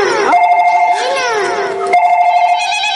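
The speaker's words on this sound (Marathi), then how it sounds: "बायकोचा फोन आलाय" A phone ringtone plays loudly and close, a bright electronic melody with steady sustained tones, and a voice briefly cuts in partway through.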